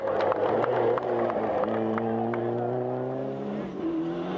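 A Group N rally car at the 1991 Acropolis Rally accelerates hard, its engine note climbing steadily through the revs with a brief gearchange dip, loud and close, then easing as it continues.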